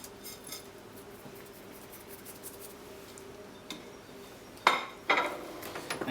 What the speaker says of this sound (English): And mix the bacon through.